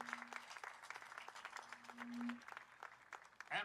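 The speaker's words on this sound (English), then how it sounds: "Round of applause, please." Scattered audience applause at a Kaua'i veterans celebration, fairly quiet and somewhat distant, with a steady tone running beneath and a brief louder burst near the end.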